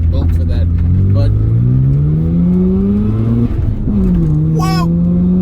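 A Mazda RX-7 engine revs hard under acceleration, its pitch climbing steadily through a gear, dipping at a shift, then rising again; loud and close, with a brief voice exclamation near the end.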